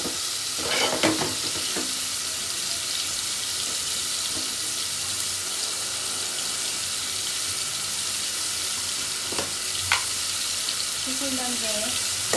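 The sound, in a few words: onions frying and sizzling in a pan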